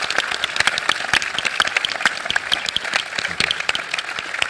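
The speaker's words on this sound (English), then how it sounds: "So can we give a big round of applause to Mark?" Dense applause from a conference keynote audience, many hands clapping steadily and loudly throughout without pause.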